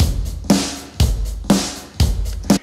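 A sampled rock drum backbeat from the Robot Dog Drums library, kick and snare alternating in a steady rhythm roughly every half second, loud and dry.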